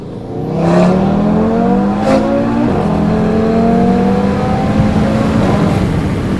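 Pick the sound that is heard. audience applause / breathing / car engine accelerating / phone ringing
car engine accelerating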